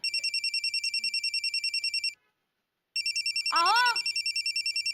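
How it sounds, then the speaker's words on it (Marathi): A telephone rings indoors in a bright, rapidly pulsing pattern, pauses briefly, then resumes as a voice calls out over the ringing. "अहो लवकर या ना, फोन आलाय."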